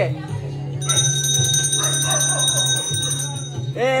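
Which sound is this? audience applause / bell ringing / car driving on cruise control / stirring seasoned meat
bell ringing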